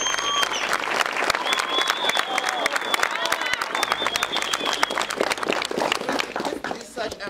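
A high school crowd claps hands in celebration, a loud, dense burst of many sharp claps at close range. Shouting and voices rise over it early on, and the clapping carries on strongly for seven seconds before tapering.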